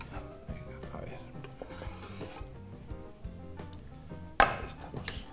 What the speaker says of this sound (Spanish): Y ahora lo picamos finito, finito, finito.